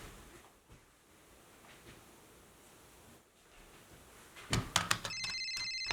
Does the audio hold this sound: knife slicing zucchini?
no